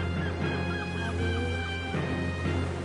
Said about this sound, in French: Il y a même les mouettes pour les encourager,